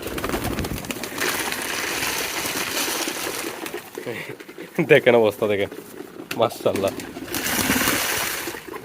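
Pigeons coo and flutter close by while someone talks over them; the birds grow busier midway with a burst of wing and cooing sounds.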